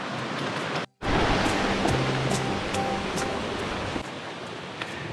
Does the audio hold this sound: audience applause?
no